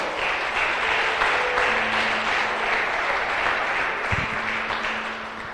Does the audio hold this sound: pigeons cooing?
no